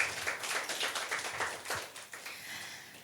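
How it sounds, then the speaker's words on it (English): Scattered audience clapping fills a hall at a talk event, a moderate, steady patter of many hands that thins slightly toward the end. "So please give a round of applause for yourself."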